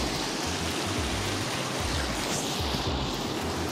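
Icy snowmelt water flows in a mountain stream near Manali, a dense, continuous rushing and gurgling that is close and steady with no voices.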